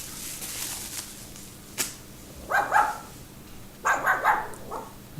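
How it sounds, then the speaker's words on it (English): A pet dog barks in two short clusters of sharp, fairly close barks, separated by a pause, against a quiet indoor background with no talking. "my dog inputs into the conversation"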